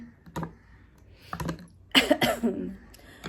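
A few short coughs sound close by, separated by quiet pauses, followed by a louder burst of coughing and throat noise.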